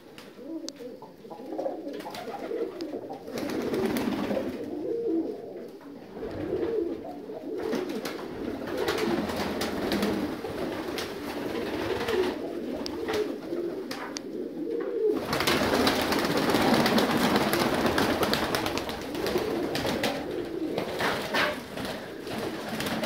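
North Caucasian fighting pigeons coo in a busy chorus that goes on without a break. The low murmuring swells louder midway as more birds join in, with some wing noise and no speech.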